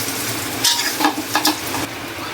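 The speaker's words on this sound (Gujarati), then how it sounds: "જીરું અને રાઈનો ને ધાણા નાખશું મસ્તીનો વઘાર કરશું" Cumin, mustard seeds and coriander crackle and sizzle in hot oil as a tempering for Gujarati dhokla, a steady hiss with a few sharper pops and stirring scrapes, close and loud, with no voices.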